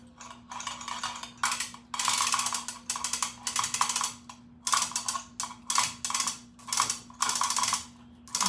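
A lifting chain rattles and clicks in short repeated bursts while a part of a vintage British motorcycle is raised in a workshop, steady ratcheting pulls separated by brief pauses, close up, with a constant low hum beneath.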